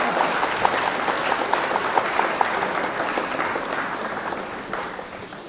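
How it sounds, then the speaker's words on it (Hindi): An audience at an all-India mushaira opening ceremony in Khatauli claps for a guest taking the stage, a dense, lively roar of applause with a few crisp claps on top, fading toward the end. "एक बार जोरदार तालियां जनाब अली हसन साहब के लिए प्लीज"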